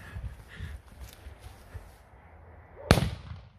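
A firecracker goes off beneath a Coca-Cola can outdoors, making a single sharp, loud bang near the end after a stretch of low rustling and movement.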